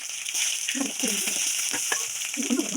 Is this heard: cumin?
yes